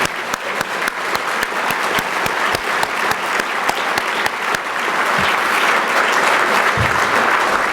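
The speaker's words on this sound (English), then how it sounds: "So I'll have a round of applause for Zion." An audience at a breakfast event gives a sustained round of applause, dense clapping that holds steady and fills the room for several seconds with no voices standing out.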